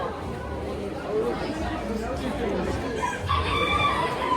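Chickens and roosters crow and cluck among the poultry stalls at an Auckland farm show in New Zealand, with the crowing rising over steady crowd chatter and nearby voices.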